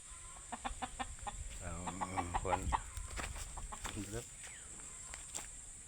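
A chicken clucks nearby in short repeated calls, fairly faint over a steady background hiss, while a person talks at times.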